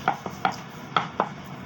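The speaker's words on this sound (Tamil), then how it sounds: "நல்லா உருட்டிக்கோங்க" Puff pastry dough is rolled out on a lightly oiled board, giving four soft, evenly spaced knocks of a rolling pin against the board, close and clear, with quiet in between.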